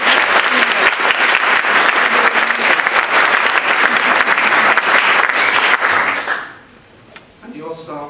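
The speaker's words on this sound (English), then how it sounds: "Big round of applause." A large audience breaks into loud, sustained applause that fills the room for about six seconds, then cuts off abruptly into near silence, leaving a faint tonal sound and light activity at the end.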